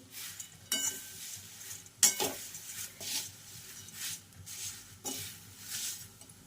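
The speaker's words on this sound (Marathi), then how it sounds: "हा बड्डेसाठी चिवडा बनवला चाललेला आहे" Thin poha chivda frying in a pan for a birthday snack, stirred with a utensil that scrapes and clinks against the metal at irregular intervals over a soft, steady sizzle, close and fairly quiet.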